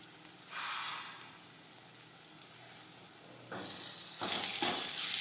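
Chutney, cumin and turmeric dropped into hot oil, sizzling in short hissing bursts that flare up with each addition and swell louder toward the end, heard close with no talk.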